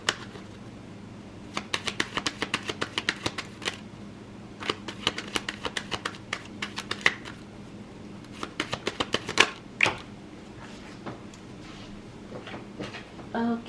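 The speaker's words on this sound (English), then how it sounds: "Let me do this and get one more card." Tarot cards being shuffled and drawn during a reading, heard as quick papery riffling bursts in close clusters with short pauses between them, alone without talk.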